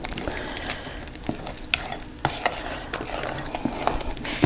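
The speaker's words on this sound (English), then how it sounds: "Now I'm going to add this to the dry mix, and you want to mix it till it is just mixed" Wet ingredients stirred into a dry mix for corn-free cornbread, a spoon working through thick batter in a bowl with soft rhythmic scrapes and taps, close and steady, no voices.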